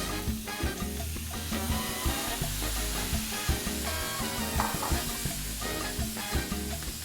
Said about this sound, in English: at this point, I will add my diced tomatoes